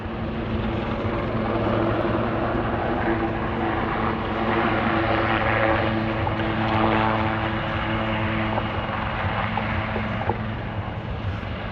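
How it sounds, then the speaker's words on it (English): A Royal Navy Westland Lynx helicopter comes into the hover at Cosford Air Show 2024, its rotor and turbine producing a loud, steady, sustained drone with a droning hum throughout. "Your camera ready again as the Lynx comes into the hover and a big nose down dive away."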